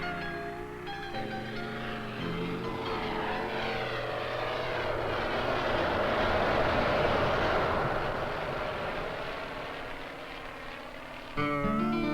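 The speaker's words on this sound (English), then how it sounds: "supported by a small, commercially operated plane brought in for the project" A small propeller plane flying over an Antarctic ice shelf sends out a steady, loud engine drone. The roar swells slowly and then fades back, with no talking over it.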